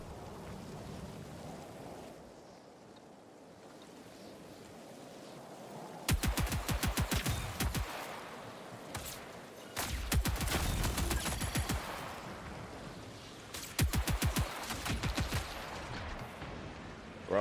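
Rapid automatic gunfire in the video game Marathon, heard as three dense bursts of a couple of seconds each, loud and close, over a low rumbling ambient bed with no talking.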